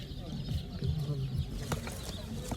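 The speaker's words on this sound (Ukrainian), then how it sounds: "Суточні курчата по 25 гривень" Day-old chicks at a livestock and poultry market in Kolomyia, high peeping chirps scattered over crowd murmur and nearby talk.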